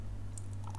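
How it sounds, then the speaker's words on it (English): A couple of quick keystrokes tap on a computer keyboard, close and crisp, over a faint constant low hum, with no voices. "I'm typing."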